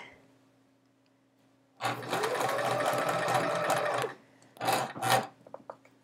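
Sewing machine stitching quilt chevron pieces runs in one steady two-second burst, followed by a few short, close stutters and then quiet.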